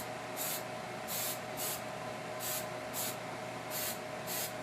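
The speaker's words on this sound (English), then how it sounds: "take the Super Hold hairspray and spray just the body of the tree" Super Hold hairspray is sprayed onto the body of a miniature model train-layout tree in seven short, quiet hissing bursts, each about a quarter second long, grouped in pairs.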